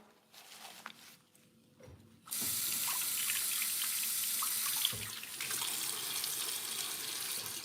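A kitchen tap opens after a few quiet seconds of faint handling sounds. Water then pours in a loud, steady hiss that continues to the end, with a brief clunk midway.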